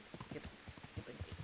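A horse's hooves clip-clop on the ground in the video game Kingdom Come: Deliverance, faint and uneven footfalls, with some low talk over them.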